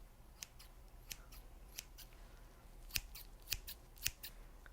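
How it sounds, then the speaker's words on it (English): A pair of scissors snipping close up in a quiet room, a string of short, crisp cuts spaced irregularly, clustering toward the end, with no talking. "It was a pair of scissors."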